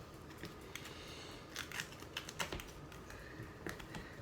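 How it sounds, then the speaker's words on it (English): A knife cuts and scores fresh grip tape on a new skateboard deck, giving scattered sharp clicks and scratchy bursts over faint background hiss, with no talking. "the easiest way is making a little cut right here, right up into the board."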